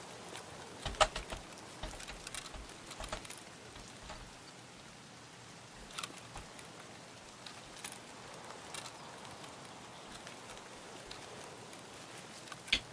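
Rain falling in the video game Escape from Tarkov, single-player mode: a faint, steady patter with scattered louder drops and ticks, heard alone without speech.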